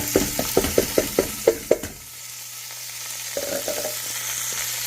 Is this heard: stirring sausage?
yes